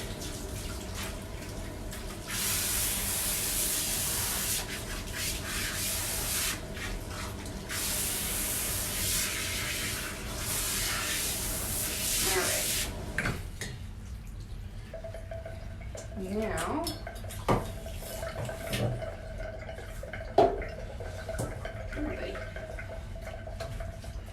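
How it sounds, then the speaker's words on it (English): A water sprayer rinses a Bichon during a grooming bath, a steady, loud hiss of spray that runs for about half the clip, then cuts off, leaving quieter dripping and handling sounds with faint tonal noises. "When you think you've got them rinsed good, do one more rinse just to be sure."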